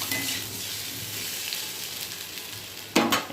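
Vegetables fry with whole garam masala in a pan, a steady close sizzle, followed near the end by a short louder burst of clatter and stirring.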